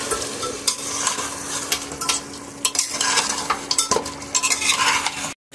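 Masala being stirred with added water in a pot for beef salan, close wet scraping and sloshing strokes over a steady sizzle, repeated irregularly, with no voices.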